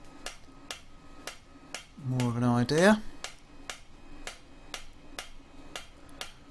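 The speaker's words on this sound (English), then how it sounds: "I'm using quite a light hammer" A light hammer strikes fire-heated metal window stays in a steady, evenly spaced rhythm of sharp ringing blows, briefly joined by someone speaking midway.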